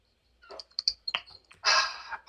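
Short bursts of clicking keystrokes on a computer keyboard, irregular taps followed by a denser flurry of typing, close and clear with no talk.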